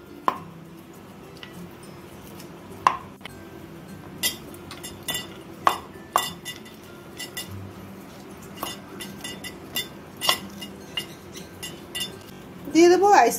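Polo mints gently crushed in a glass for a virgin mojito: a series of sharp clinks and muddling knocks against the glass, irregular and close, with a brief rustle at the end.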